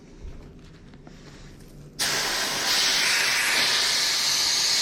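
Compressed air is blown into the gas hose inlet of a Mr. Heater garage heater, giving a sudden loud, close, steady hiss that cuts in after a short quiet stretch and keeps going to the end.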